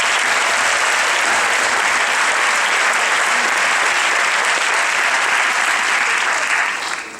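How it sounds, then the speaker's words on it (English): A full room claps loudly and steadily at a pharmacy school honors convocation, the applause holding strong before tapering off in the final moments. "Please give them a round of applause."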